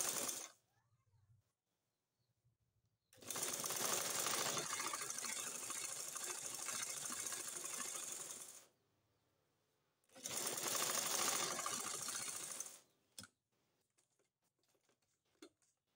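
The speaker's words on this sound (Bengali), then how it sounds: "এখন আমি এভাবে কাপড়টা পিছন দিয়ে নিয়ে একটা সেলাই দিয়ে নিব।" A sewing machine stitches blouse fabric in two long, steady runs of rapid mechanical whirring, separated by quiet pauses, with a few faint clicks and handling sounds near the end.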